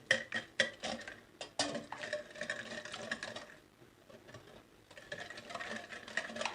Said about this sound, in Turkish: Çok güzel bir şekilde çırpacağım.